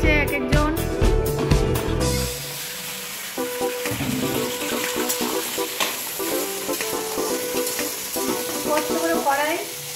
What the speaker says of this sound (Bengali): এখন আমি লাস্ট ফ্রাইড রাইসটা করছি।